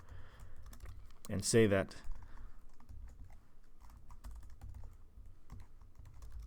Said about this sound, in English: I'm sorry, forgive my typing, it's not the best